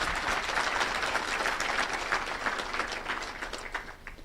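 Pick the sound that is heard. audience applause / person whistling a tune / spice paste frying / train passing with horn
audience applause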